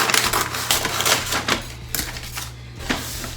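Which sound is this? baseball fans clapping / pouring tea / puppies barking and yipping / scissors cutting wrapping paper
scissors cutting wrapping paper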